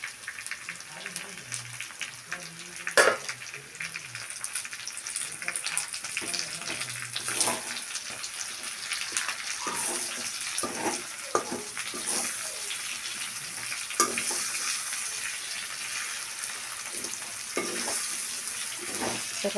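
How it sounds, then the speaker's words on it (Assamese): Chopped onions sizzle and fry in a hot pan, a steady close crackle with occasional stirring scrapes and light knocks, with a voice speaking intermittently. "পিঁয়াজখিনি দি অলপমান ফ্ৰাই কৰি ল'ম।"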